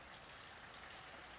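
Steady rain falling outdoors, a faint, even hiss of drops with no talking over it.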